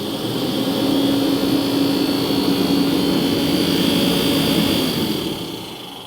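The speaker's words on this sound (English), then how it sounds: "the fan doesn't want to spin up very well. It sounds like it's hitting something." A diesel heater's fan drones steadily and loudly, struggling to spin up as if it is catching on something, with a constant roar and a faint tonal whine that fades slightly at the end.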